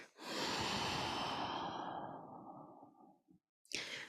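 A long, audible breath out during a yoga backbend, strong at first and gradually tapering over about three seconds, followed by a brief pause and a short sharp intake.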